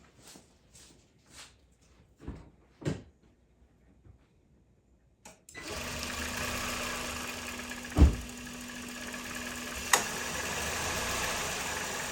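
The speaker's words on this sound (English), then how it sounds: "You hear the compressor cut on." A Honda hybrid's air conditioning compressor cutting on with the engine running: a few scattered clicks and faint knocks, then a steady engine-like hum kicks on, with a sharp clunk partway through and a steady drone continuing after.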